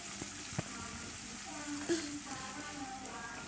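Fish coated with turmeric, chili powder and salt fries in a wok over cumin, giving a steady close sizzle with a few sharp spatters and stirring clatters.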